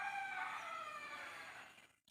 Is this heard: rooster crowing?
yes